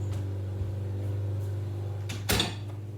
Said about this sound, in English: Let me see if I can close the door.